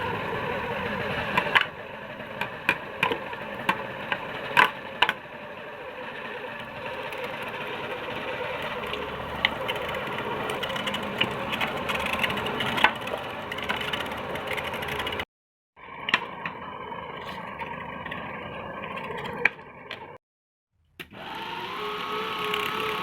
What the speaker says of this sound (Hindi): हम चूँकि बीफ ले रहे हैं तो हम मिक्सर में शामिल करेंगे बीफ